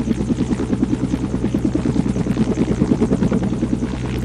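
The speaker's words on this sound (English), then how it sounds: "Okay, slow down the helicopter." Video game helicopter with a steady rotor chop and engine buzz, loud and close, holding a constant pulsing rhythm throughout.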